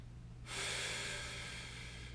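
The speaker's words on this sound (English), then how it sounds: "And the exhale and the inhale." A single long, deep breath during a ball-assisted mobility exercise for the forearm and neck: a sudden rush of air that holds steady and slowly fades, close and alone in a quiet room.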